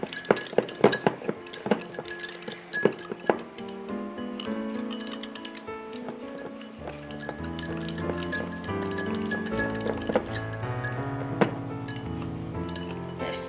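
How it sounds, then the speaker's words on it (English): Ingredients whisked in a glass bowl for a microwave s'more cake, a busy run of close, bright clinks and taps of the whisk against the glass, irregular but steady, with no talking. "And now we're just going to whisk that."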